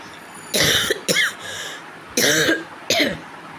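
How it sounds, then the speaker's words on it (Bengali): A person with a lingering illness, weak but without fever, coughs four times in harsh, separate bursts close to the microphone, with short quiet gaps between them. "বেশিক্ষণ কথা বললেই আমার খকর করে কাশি শুরু হয়ে যাচ্ছে"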